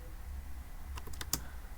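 A few quiet keystrokes on a computer keyboard come in a short, quick burst at close range against a faint background hum.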